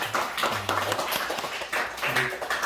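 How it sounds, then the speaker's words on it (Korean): A church congregation gives a welcoming round of applause during Sunday worship, uneven clapping that rises and dips, with some voices murmuring underneath. "우리 강간할 수 있도록 환영의 박수 우리 해주시기 바랍니다"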